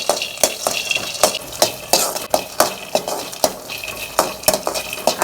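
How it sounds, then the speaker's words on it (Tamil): Dry chickpeas roast in a pan under a brisk stirring rhythm, each sweep of the spoon bringing a sharp rattling scrape as the grains tumble against the metal, with a faint sizzle beneath. "கடலையை நல்லா இப்படி வறுத்துக்கங்க."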